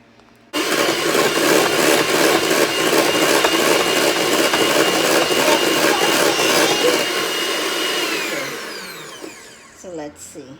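An electric hand mixer whips cream with vanilla paste toward soft peaks, a steady loud motor whir running for about eight seconds before winding down and stopping, followed by a brief voice.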